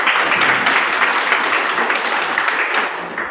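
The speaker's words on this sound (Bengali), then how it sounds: "এই 110 জনকে জন্য সবাই মিলে একবার হাততালি।" A crowd at a union meeting of local microphone and sound operators in Dhaniakhali claps in a loud, dense wash of applause that holds steady and then eases slightly toward the end.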